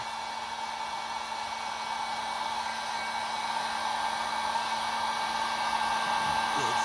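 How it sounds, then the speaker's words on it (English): A cheap heat gun blowing hot air onto heat-shrink wire terminals, a steady close blowing whir with a constant hum that holds level throughout without speech. "You can see it's just easier with the heat gun."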